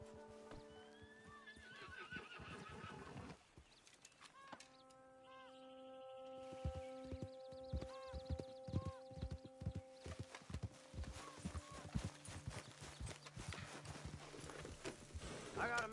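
Horses whinny several times over a steady clip-clop of hooves, with voices talking and a low hum running underneath.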